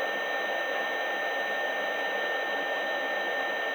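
A K&T Model 2D rotary head mill cuts brass in a steady, continuous machining whir with a high-pitched whine, holding an even level with no breaks and no talk.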